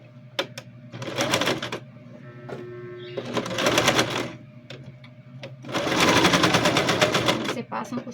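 A sewing machine stitches a children's backpack in three rapid whirring bursts of needle chatter, separated by pauses with a faint hum, while a person talks between the runs.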